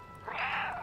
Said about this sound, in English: I can meow on command!